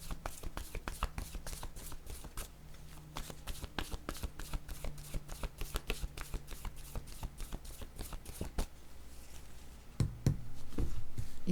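A deck of oracle cards is shuffled for a card reading, giving a steady run of crisp riffling flicks and slaps for about ten seconds before a few louder handling thumps near the end.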